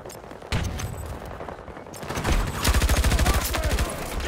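Rapid bursts of automatic gunfire in a Battlefield 2042 match, sharp cracks building into a fast rhythmic volley that dominates the last couple of seconds, with scattered shots before it.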